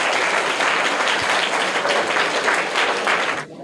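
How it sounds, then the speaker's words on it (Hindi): Schoolchildren and audience at a general-knowledge quiz prize-giving burst into loud, sustained applause for a winner, a thick continuous roar of clapping that fades out abruptly at the end. "तो इनके लिए भी जोरदार तालियां हो जाएं।"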